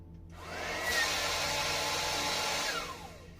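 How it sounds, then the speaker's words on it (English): A small air pump blasts air through a homemade confetti cannon pipe loaded with confetti, a steady loud whooshing rush that swells in after a brief quiet moment, holds for about two seconds, then tapers off. "the pump will blow air, which should shoot out the confetti"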